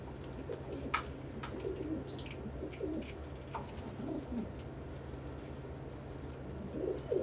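Pigeons coo softly around a feed dish, low repeated calls over a faint background hum, with a few sharp chirps and scuffs.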